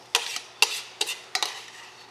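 A spoon stirs lemon juice into chopped eggplant and tomatoes in a bowl, four or five sharp scraping clinks spaced about half a second apart, close and fairly quiet in a still room.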